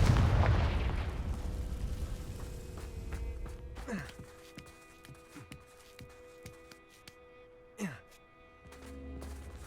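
A Confringo fire spell blasts off in Hogwarts Legacy: a loud burst at the start, then two sharp whooshing cracks a few seconds apart over a low game ambience, with no voices.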